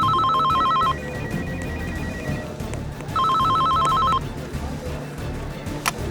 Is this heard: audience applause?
no